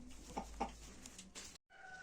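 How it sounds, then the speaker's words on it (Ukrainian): A couple of short, soft clucks from a hen close by, with a rooster nearby, followed by a brief rustle and a sudden cut. "Лишилась курка і півень тут з нею для компанії."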